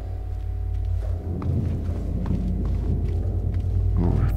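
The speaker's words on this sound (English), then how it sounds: "Oh, thunder." Thunder rumbling in the Silent Hill 2 Remake video game, a low continuous roll with dull thuds that swells near the end, heard steadily throughout.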